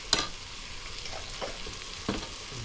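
Pinakbet vegetables with fermented shrimp paste (bagoong) being stirred in a sizzling pan, three distinct scraping stir strokes over a continuous close frying hiss.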